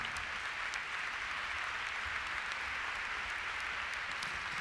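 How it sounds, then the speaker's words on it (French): Audience applause for a show jumping winner at the international jumping event in Bordeaux, a dense, even wash of clapping from a large crowd that holds steady throughout with no talk. "Et vos applaudissements pour Pius Schwitzer."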